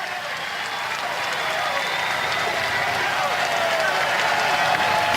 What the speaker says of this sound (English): The Eagle crowd making noise. They're on their feet at Pete Taylor Park.